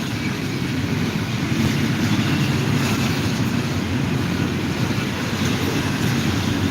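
A train passes close by outdoors, a loud, steady broadband rumble and roar that holds evenly throughout without pause.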